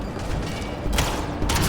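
Gunfire rattles through a firefight in the video game Mass Effect: Andromeda, dense and loud with sharper bursts standing out near the middle and end of the short stretch.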